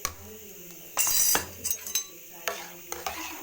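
Ground paste goes into rasam in a home kitchen pot, with scraping and clinking of a spoon against metal, a few louder splashing bursts and faint background sizzle.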